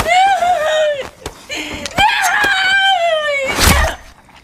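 A woman in the film Hush screams for help, loud rising and falling wails broken by short pauses and sharp knocks and thuds, close and intense.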